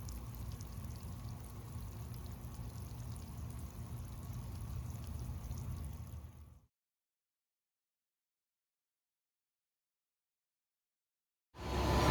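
A garden sprinkler system waters lettuce and kale containers outdoors, a steady close spray hiss running for about six seconds before cutting off to silence, then resuming abruptly at the end.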